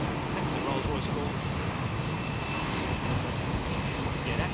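A jet airliner with a Rolls-Royce core engine at Heathrow Airport, ahead of a storm, produces a continuous broad roar that holds steady and moderately distant throughout.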